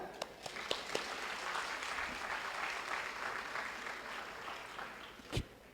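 A crowd applauds steadily for several seconds, a dense wash of clapping with a sharp louder clap near the end.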